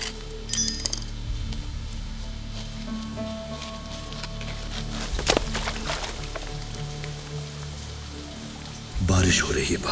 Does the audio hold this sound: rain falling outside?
yes